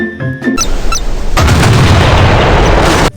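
Large-caliber naval main cannon firing in a modern naval combat video game, a sharp booming blast followed by a long, loud rolling roar that fills the space before cutting off abruptly.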